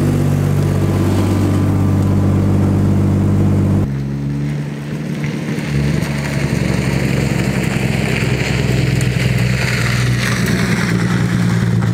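A car engine cranks and fires up on a frosty winter day, a loud steady idle settling in after the start and running smoothly up close.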